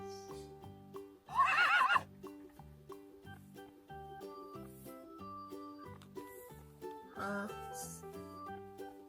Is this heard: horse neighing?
yes